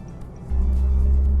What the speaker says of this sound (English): On third gear, I'm just revving it hard.